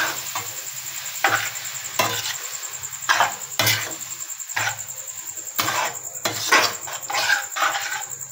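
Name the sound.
stirring egg noodles with fried egg in a pan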